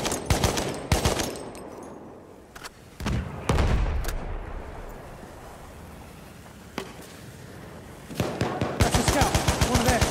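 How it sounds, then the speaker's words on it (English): Video game machine gun fire from an enemy shock trooper, rapid bursts of automatic shots at the start and again at the end, with heavier booms in between, loud and close, no talking. "Over there's an enemy shock trooper. Machine gun, hostile."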